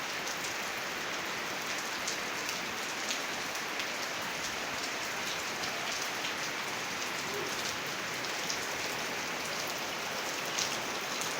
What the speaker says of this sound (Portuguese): Chuva no estado do Tocantins.